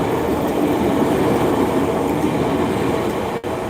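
An Oimachi Line train rolls past on an evening street in Tokyo, a steady loud broadband rumble of wheels and carriages holding throughout, with a brief dip near the end.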